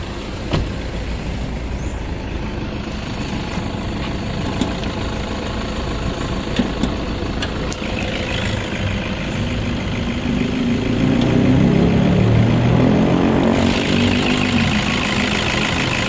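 A 2014 Toyota Kijang Innova automatic diesel engine idles steadily nearby with a low rumbling hum, growing slightly louder and rougher toward the end.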